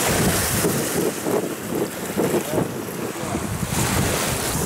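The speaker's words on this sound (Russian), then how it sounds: "Волны как на море!" Stormy lake waves surge and wash loudly and continuously during a fishing trip, with heavy wind buffeting the microphone throughout; no talking.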